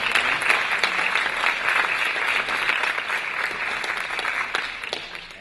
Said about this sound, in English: let's give a quick round of applause to all of our panelists